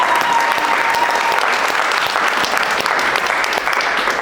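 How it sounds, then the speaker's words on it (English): An audience claps at the opening of a nonprofit storytelling event, a continuous, loud, even applause filling the whole stretch without speech. "Yeah, you can clap"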